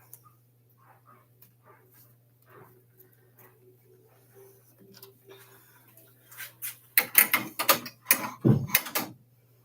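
An embroidery machine stitches around a piece for a Drills & Chills inspired bag, a low steady hum with faint ticking that builds into louder, rapid mechanical stitching bursts near the end.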